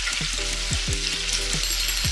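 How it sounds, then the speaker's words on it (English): Jumbo butterfly shrimp deep fry in a basket of hot oil at 350 degrees, a loud, close, continuous bubbling sizzle that holds steady throughout, with an electrical hum underneath. "Place your jumbo in the basket and give them a hot oil bath"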